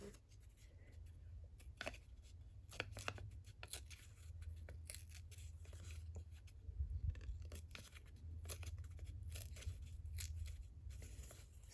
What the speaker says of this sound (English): I tear it towards the middle, but not all the way to the middle